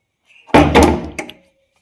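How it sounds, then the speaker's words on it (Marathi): A kitchen door bumps shut with a solid thunk, followed by a brief rattle and a sharper click of a latch catching, close by. "किचनला कडी लावते म्हणजे मांजर जायचं नाही"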